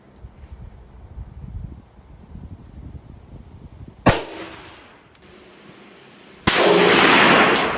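Two loud gunshots from a French MAS 49 rifle fired outdoors, each a sharp crack with a trailing echo, the second one louder and followed by heavy wind noise.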